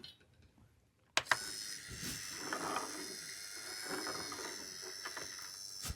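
A Simplicity bias tape maker starts up after near silence with a sharp click, then runs with a steady mechanical whir and ticking gear sounds, fairly quiet and close.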